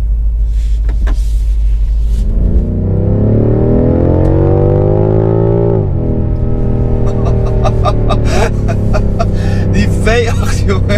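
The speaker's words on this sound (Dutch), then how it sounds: "Die V8, jongens, in deze auto. Dat klappert en het doet." BMW M5 Competition V8 engine revving hard on a cold day, rising steadily to a loud peak before snapping off, then settling into a burbling idle with crackles and pops, close up.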